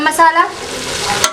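Spices such as red chilli powder, salt, turmeric and garam masala sizzle as they are stirred and fried for beef degi korma, a short burst of close frying with scraping stirs.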